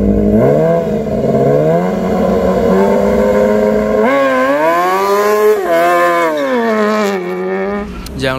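A Kawasaki ZX10R drag bike, modified in Indonesia, revs loud and close in repeated rising and falling sweeps, the pitch climbing sharply midway with a few blips near the end.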